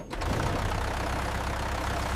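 A farm vehicle's engine idles steadily at close range, a loud, even low rumble with a faint knocking pulse that holds from start to finish, with no voices.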